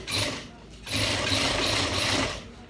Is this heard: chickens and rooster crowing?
no